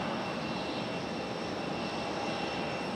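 A Breeze Airways airliner's engines roar as it departs from Raleigh-Durham airport, a steady, distant broadband rumble that holds evenly without breaks.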